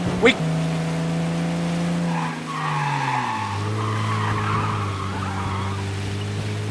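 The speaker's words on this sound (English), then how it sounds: "Oh my god, this car doesn't turn!" A car in the Mafia: Definitive Edition video game skids with a long tire squeal, its engine note sliding lower while a voice talks over it.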